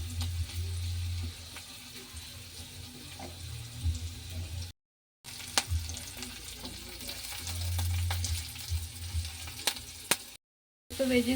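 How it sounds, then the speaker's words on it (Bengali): Garlic, ginger, green chilli and vegetables for veg momo sizzle and fry steadily in hot oil, with stirring and the scrape of a utensil through the pan, broken by two brief silent gaps. "প্রথমে রসুন কুচি দিয়ে দেবো, তারপর দিয়ে দেবো আদা কুচি, আর তারপর দিয়ে দেবো কাঁচা লঙ্কা কুচি, আর তারপর দিয়ে দেবো সব সবজিগুলো"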